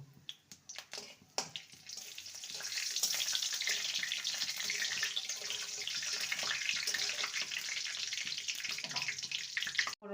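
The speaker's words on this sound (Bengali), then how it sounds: "ফোড়নটাকে ভেজে নেব" Whole spices (cloves, cardamom, cinnamon, cumin, bay leaves and a dried red chili) fry in hot oil for a jackfruit dish, making a steady close sizzle with scattered crackles and clicks from the pan, and no talking.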